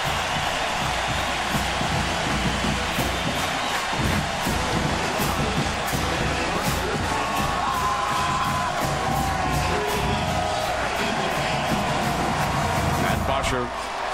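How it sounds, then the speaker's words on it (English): A packed stadium crowd at the 2008 Miami vs Florida college football game roars and cheers steadily for the whole stretch, a dense, loud wall of voices with scattered whoops. "Crowd wants another one now."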